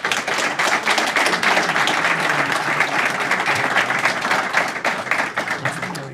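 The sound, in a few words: audience applause after a talk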